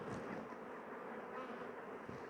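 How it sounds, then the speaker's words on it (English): Honey bees buzz around a hive frame in a split colony, a dense, steady hum of many wings close by, fairly quiet and unbroken. "So quite a few bees up here."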